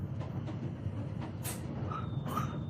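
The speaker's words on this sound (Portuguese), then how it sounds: "Meu trem para em Kutaisi" A train bound for Kutaisi, Georgia rumbles with a low, steady rolling drone, broken by a few faint clacks and hissing bursts and a thin high tone near the end.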